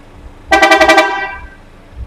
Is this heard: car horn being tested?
yes